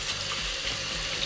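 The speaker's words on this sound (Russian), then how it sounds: "Просто нажимаете так вот, и вода идет." Water runs steadily from a push-lever kitchen mixer faucet, giving a continuous close-up hiss and splash into the sink with no talking.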